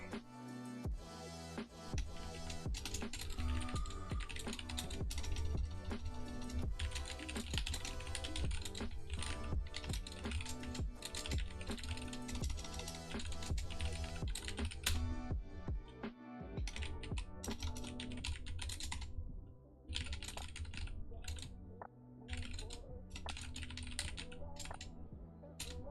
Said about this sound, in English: I'm gonna type it because there's lag and stuff